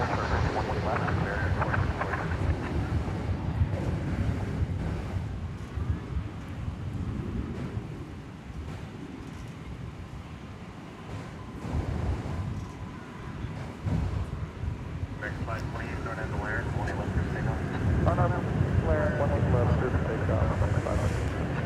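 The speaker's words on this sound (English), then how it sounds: "That was American Flight 1961 arriving from San Antonio, Texas, an Airbus A321." An American Airlines Airbus A321 arrives at DFW Airport, a broad, sustained jet roar mixed with wind buffeting on the microphone, swelling and easing over time, with people talking over it.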